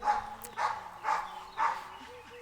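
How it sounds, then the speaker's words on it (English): A dog barks four times at an even pace, each bark short and moderately close, with a low steady hum underneath in an indoor room. "the dogs."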